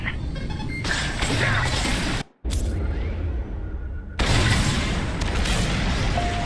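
Bombs detonate on an enemy station during a starfighter raid in the Star Wars Squadrons video game, a dense rumbling barrage of booms with one abrupt cut, then a louder renewed blast wash, no talk.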